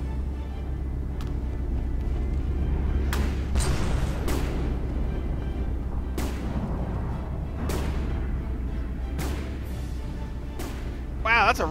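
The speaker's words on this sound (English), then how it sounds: "Wow, that's a really fast torpedo." A fast torpedo striking a ship in the naval battle game From The Depths, heard as a burst of booms and impacts over a constant low rumble of battle noise, with several sharp explosive hits spaced through the scene.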